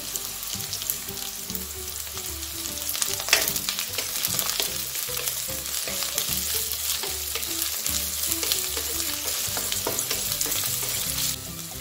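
Carrot and cabbage stir-fry for Hakka noodles, with a loud, continuous sizzle and frequent clattering stirs and tosses of the spatula in the pan.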